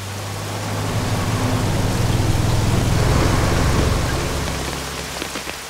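Rain falls steadily in a broad wash of even hiss that swells through the middle and eases toward the end, with no voices heard.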